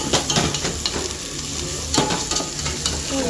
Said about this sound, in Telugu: కొన్ని జీడిపప్పు వేస్తున్నా తాలింపులో.